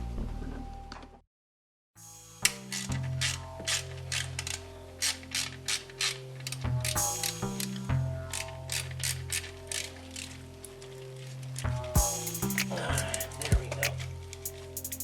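A ratchet clicks in quick bursts while backing out 10mm injector bolts on an Infiniti FX35, close and crisp, after a brief silent gap near the start, with short pauses between runs of clicks.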